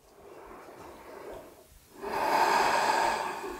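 Deep breathing during a vinyasa yoga practice, a soft, airy inhale followed by a longer, louder exhale, close and with no talk.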